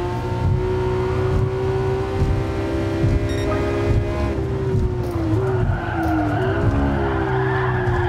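Tires squeal long and loud as a Porsche GT3 RS drifts in Gran Turismo Sport, the screech wavering in pitch over a droning engine with no talk.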